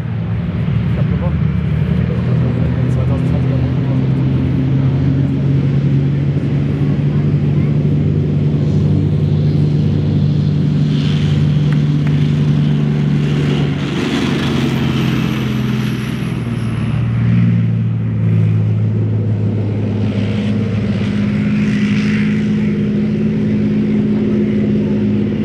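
A Leopard main battle tank rumbles past with a deep, steady engine drone and track noise at an army open day demonstration in Stetten am kalten Markt, swelling and fading as it moves, under a German announcer's commentary.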